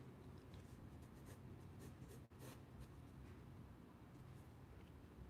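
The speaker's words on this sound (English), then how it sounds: "Can you hear the pencil?" Pencil scratches steadily across paper in a close-up, a soft continuous rubbing hiss with small bursts of stroke texture and one brief lift near the middle.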